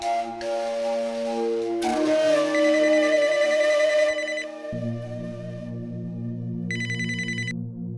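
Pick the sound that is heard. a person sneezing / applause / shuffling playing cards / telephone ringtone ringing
telephone ringtone ringing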